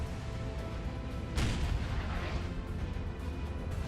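An artillery strike in Napoleon Total War lands as a single heavy blast with a rushing burst of noise, rising over a constant rumble of battle and then fading back into it.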